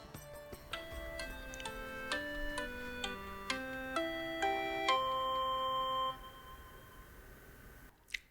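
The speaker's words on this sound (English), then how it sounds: "let me play you the default ringtone of this dedicated," Default ringtone of a Nubia RedMagic 6R gaming phone: a bright melodic sequence of electronic beeping tones stepping through a tune for about six seconds, then fading to quiet.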